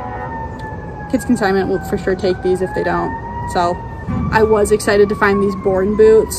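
An emergency vehicle siren wails outside a garage sale, rising and falling at moderate distance beneath someone talking about boots up close.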